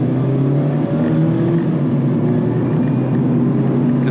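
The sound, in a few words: Mazda MX-5 Miata RF engine revving while shifting gears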